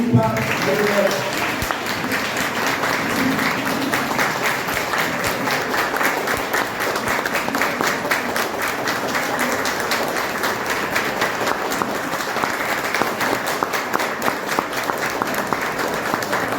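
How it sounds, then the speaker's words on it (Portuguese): A large gathering gives a long, warm round of applause for Janine and Ignória, the dense clapping sustained and loud for many seconds, with voices mixed in beneath it. "eu peço a calorosa salva de palmas para a Janine e para a Ignória"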